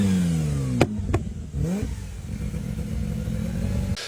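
A rotary-engined race car revs hard at trackside in a series of rising and falling engine sweeps with sharp cracks between them, loud and close, then settles into a rough, burbling idle.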